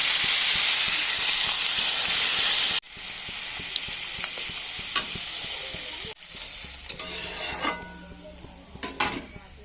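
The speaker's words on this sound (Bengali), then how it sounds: "মশলার আলু ভালো করে কষানো হয়ে গেছে, এবার দিয়ে দেবো এর মধ্যে আমি জল" Spiced potatoes frying in a pan for a Bengali lentil-fritter curry give a loud hiss and sizzle. Then the sound drops abruptly to a quieter bubbling, with utensil clinks and stirring scrapes as water goes in.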